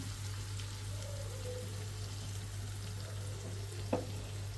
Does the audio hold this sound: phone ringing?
no